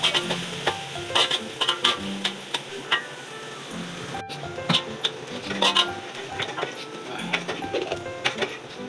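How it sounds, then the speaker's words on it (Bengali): Onion, garlic and chili fry in a pan under a light sizzle, punctuated by frequent sharp spatula scrapes and taps on the metal in an irregular rhythm. "পেঁয়াজ, রসুন, মরিচ সবগুলোকে সুন্দর করে ভেজে নিব"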